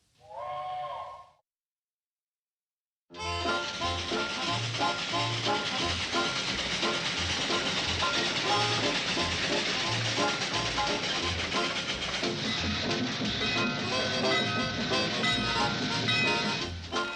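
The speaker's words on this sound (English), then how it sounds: "train's in." A short voice, then a pause before a steady, loud rumble and hiss of a train rolling in, continuous and close, with rhythmic low thumps beneath.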